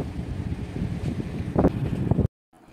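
Strong wind on a beach at Pantai Remis, Jeram, Selangor, shakes and flaps tent cloth, a loud continuous rumble with sharper gusts and fluttering before cutting off abruptly.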